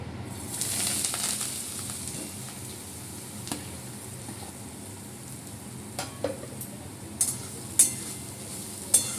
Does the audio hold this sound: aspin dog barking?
no